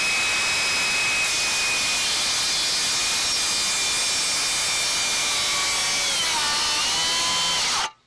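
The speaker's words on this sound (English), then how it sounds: "we're going to do a plunge cut first on the Makita" A Makita 36V cordless circular saw plunge-cuts into treated 6x6 timber with a loud, steady high whine that runs for about eight seconds, dips slightly as it bogs near the end, then cuts off abruptly.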